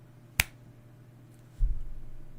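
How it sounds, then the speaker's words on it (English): A single sharp finger snap rings out close and crisp against a quiet room, followed a moment later by a low muffled thump and rumble. "When I snap my fingers, you will begin to eat."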